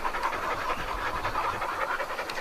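Two freshly shampooed dogs pant steadily and quickly together, a close, continuous breathy rhythm with no voices.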